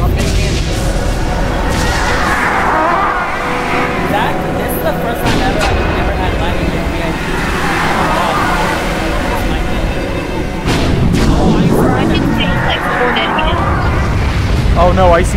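Bombing-run explosions in a video game, a continuous series of heavy booms and rumbling blasts that rise and fall over about fifteen seconds, loud and sustained throughout.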